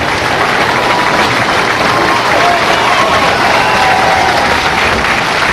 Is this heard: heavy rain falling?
no